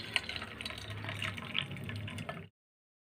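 Water scooped out of a pot with a ladle, sloshing and trickling close by for about two and a half seconds before stopping, while making a chutney.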